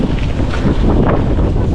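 Strong wind at a hilltop wind farm in Pililla, Rizal buffets the microphone with a loud, rumbling roar that gusts unevenly throughout, with no voices.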